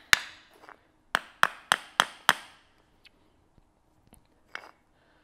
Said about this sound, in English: taking tiny taps with the hammer to get it started